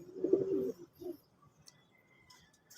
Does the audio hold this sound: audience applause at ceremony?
no